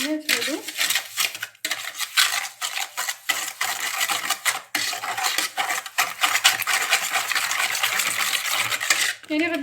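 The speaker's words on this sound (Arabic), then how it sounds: "غادي نبدا انني نخلط هاد المكونات هادو." Basbousa batter with oil is whisked by hand in a bowl, steady rapid clinking and scraping of a utensil against the dish, close and busy, without pause.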